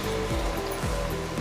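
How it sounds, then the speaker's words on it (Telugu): Water poured from a glass into an egg curry in a home kitchen makes a short, steady splashing stream heard close up. "ఇప్పుడు వాటర్ పోసుకుందాం. ఇదిగోండి, గ్లాస్తో"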